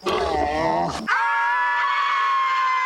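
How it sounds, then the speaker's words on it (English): A loud, strained scream from a television commercial, rough and throaty at first, then a long sustained high wail held steadily to the end. "you can just play that scream anywhere and it'll get a laugh"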